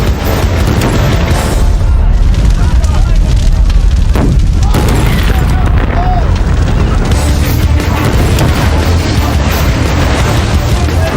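Heated 55-gallon drums of methanol rupture in a chemical fire, giving loud, continuous roaring and booming blasts over dense rumbling flames, heavy and unbroken throughout.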